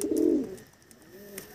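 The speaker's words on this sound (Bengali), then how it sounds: "খুব দারুণ অ্যাক্টিভ পায়রা আছে" A desi pigeon in a loft gives one low, rolling coo that fades out, followed by a softer second coo, close by and without any voices.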